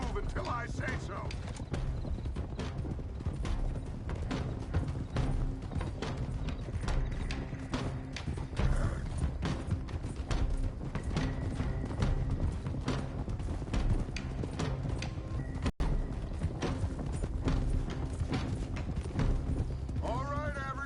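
Horse hooves clopping steadily in Red Dead Redemption 2 as several riders move together, a continuous close rhythmic patter lasting throughout, with voices talking over it.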